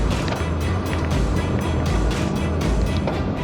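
A tractor engine trails close behind a cyclist on a road through vineyard country, a low continuous rumble with rhythmic pulsing bursts of noise over wind rush, sustained throughout.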